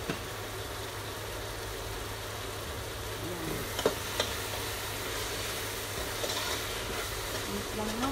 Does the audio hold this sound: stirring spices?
yes